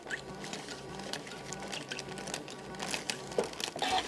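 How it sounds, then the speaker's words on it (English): A sewing machine runs while quilting through paper on dark fabric, giving a quiet, fast, continuous patter with faint small squeaks and crinkling close by. "I don't know if you can hear that little squeak, squeak kind of noise it makes."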